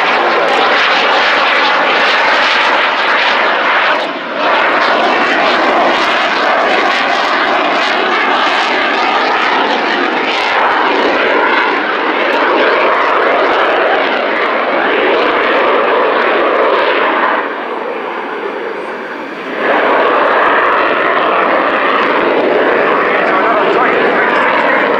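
Military jet at the RIAT Fairford airshow making a loud, continuous roar throughout its display pass, with brief dips in intensity, while a commentator talks over it.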